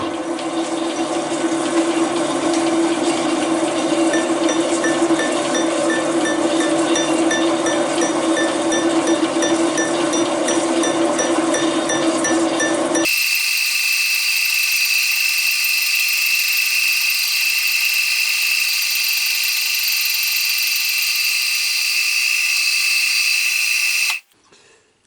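A machine cuts the teeth of a 120-tooth gear with a slow feed and a shallow cut. It gives a steady, loud mechanical whir with coolant hiss, shifts abruptly to a higher whine midway, and stops near the end.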